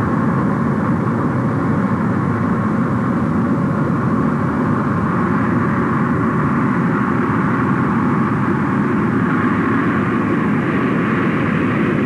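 An American jet airliner takes off at Idlewild airport in the early 1960s, with a loud, continuous, broad engine roar that holds steady throughout and no voices over it.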